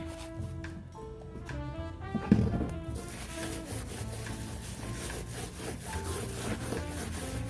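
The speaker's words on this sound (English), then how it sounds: "then you're just going to rub it on the container" Rough rubbing of wet mud onto a thrifted container to give it an aged look, a close, soft scratching and scraping sound with repeated strokes, fairly quiet and without talk.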